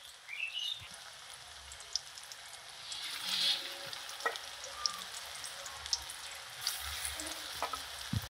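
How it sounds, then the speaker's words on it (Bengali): Fish egg fritters frying in hot oil, a steady soft sizzle with occasional pops and crackles throughout, fairly quiet and close. "আর এক পিসটা ভেজে নিচ্ছি।"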